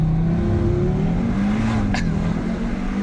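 A 2022 Audi TT RS accelerates hard under launch control, its engine note climbing steadily and loud throughout, with a short bright burst partway through.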